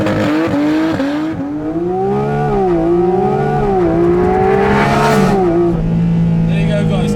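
A Porsche GT4 RS launches hard under launch control, its engine revving high and climbing through several gear changes with rising and dipping pitch, loud and close from inside the car, with a voice briefly over it.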